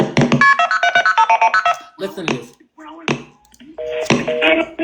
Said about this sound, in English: Let's look at this 911 phone call